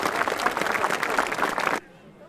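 Concert audience applauding young clarinet and flute players at an outdoor Nesodden school band concert, a dense steady wash of clapping that cuts off sharply near the end, leaving quiet room tone.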